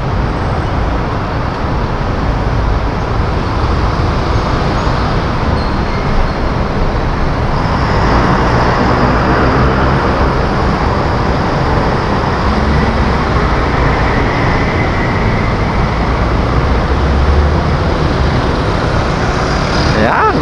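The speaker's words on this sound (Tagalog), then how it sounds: "Traffic is live." Dense, loud road traffic roar around a motorcycle filtering through congested city traffic, captured on an Ausek S60 action cam, with continuous engine and wind rumble throughout.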